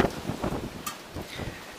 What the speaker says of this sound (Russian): Мне кажется, я такого ветра еще здесь не видела.